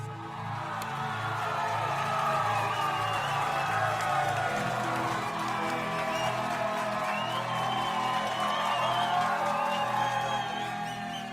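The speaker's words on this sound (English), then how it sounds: "here's a cheer for Boo" A big crowd cheers and whoops continuously, a loud dense wash of voices with scattered shouts and applause rising and holding steady throughout.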